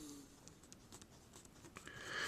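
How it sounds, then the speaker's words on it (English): Pen or pencil writing out a math equation on paper or a board, a quiet run of short scratchy strokes close by, with no talking. "I have my equation ready to write."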